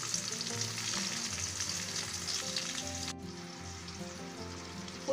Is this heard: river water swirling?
no